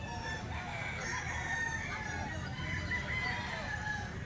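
Gamefowl roosters at a farm keep up a dense, steady din of crowing and clucking, with overlapping calls at varying distances.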